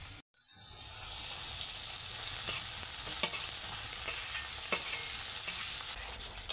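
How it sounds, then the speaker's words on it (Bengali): Fried pointed gourd pieces drop into spice paste cooked down until the oil separates, setting off a loud, steady sizzle with a few sharp pops and stirring scrapes; close up, no voices. "এবার এর মধ্যে ভেজে রাখা পটলগুলো আমি দিয়ে দেব।"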